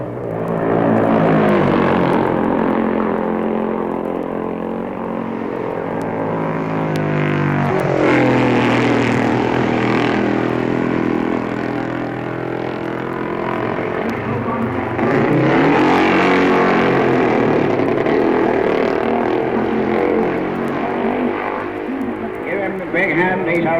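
A Norton racing motorcycle on its last winning lap of the Isle of Man TT course roars past steadily at close range, engine pitch rising and falling through the run, with a commentator talking over it.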